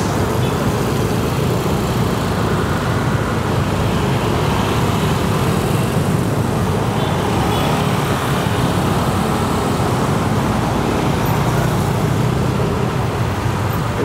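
Dense, congested traffic on a Jakarta road near the LRT Velodrome–Manggarai works makes a constant, loud roar of engines and tyres that never lets up, with no voices.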